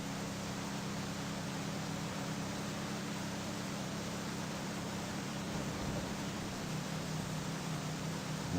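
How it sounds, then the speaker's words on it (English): Steady, loud rain from the Denizen video game fills the whole stretch as an even, dense hiss with no breaks, no talking over it. "This rain is super loud."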